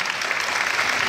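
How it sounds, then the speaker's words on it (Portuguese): An audience at a talent show claps for a young contestant. The applause is brief, steady and moderately loud, a dense wash of hands with no voices over it. "Uma salva de palmas pra ela!"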